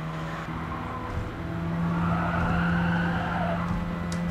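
A 1990 Mazda RX-7 GT-X (FC) races in Gran Turismo Sport, its engine droning continuously under repeated tire squeal and skidding, loud and sustained.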